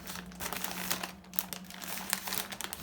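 A plastic World Central Kitchen aid package is handled close up, giving continuous crinkling and crumpling with sharp rustles throughout, no speech.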